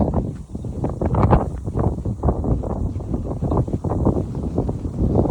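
Gusty wind buffeting the microphone outdoors during a horse hack past walls and wheelie bins, a continuous low rumbling roar with fluctuating surges and no speech.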